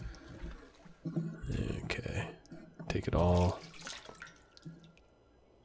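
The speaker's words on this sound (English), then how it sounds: "Let's go up and drink some toilet water real quick." Toilet water being drunk in The Long Dark survival game: a short watery slosh and gulping burst in the middle, with a person talking before and after it.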